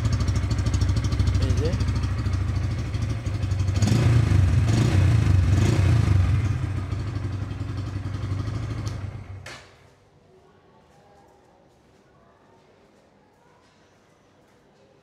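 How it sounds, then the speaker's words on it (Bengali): A Bajaj Pulsar N160 with an underbelly exhaust runs loudly and close for about nine seconds, swelling briefly in the middle, then cuts off abruptly, leaving quiet background; a voice speaks over the engine. "সেটা হচ্ছে আমার এক্সস্টের সাউন্ড। যদিও ওই মোটরসাইকেল হচ্ছে আন্ডারবেলি এক্সস্ট,"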